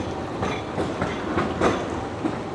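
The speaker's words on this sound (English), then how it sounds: "And there's a tram." A Blackpool tram rumbles past on the seafront promenade in wind and rain, a steady rolling clatter of wheels on rail at moderate distance under gusty noise, with no talking.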